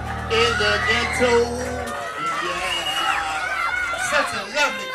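A live audience at a hip-hop show cheers and chatters in a steady, close hubbub, with voices calling out over the crowd noise and music.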